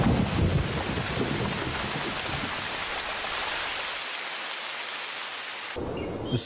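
Steady summer rain pours down with a low rumble of thunder in a Chinese garden courtyard, dense and close at first, then thinning into softer drizzle before a brief quieter, brighter patch near the end.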